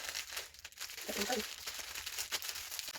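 A small plastic jewelry packet crinkles and rustles steadily up close, with a brief murmur of a voice partway through.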